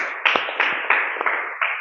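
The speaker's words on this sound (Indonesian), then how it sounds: "Ya, tepuk tangan untuk Fatin" A handful of children clap for a classmate in a classroom, a short burst of several uneven claps close by, with no talking over it.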